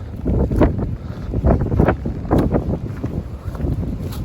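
Strong wind blowing across the Appalachian Trail at Cooper Gap, loud gusty buffeting rumble against the microphone, rising and falling in surges.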